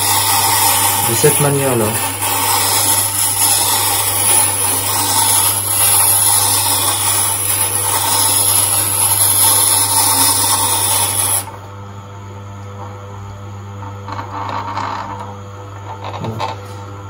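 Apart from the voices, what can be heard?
Tormek sharpening machine sharpening a blade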